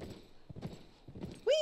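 A horse being mounted and ridden in The Last of Us, with a few soft hoof clops and movement sounds ending in a sudden short whinny, with brief talk mixed in.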